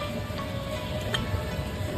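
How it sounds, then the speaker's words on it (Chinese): Soft, steady patter of light rain with a faint constant hiss in the background, no voices. "还在下着小雨"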